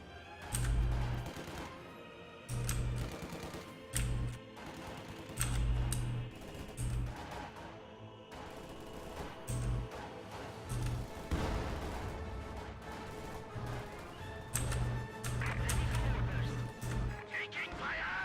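Gunfire and explosions crackle through a Company of Heroes 2 battle at Pripyat, sharp irregular bursts of shots and booms mixed with in-game voices and background music at moderate level.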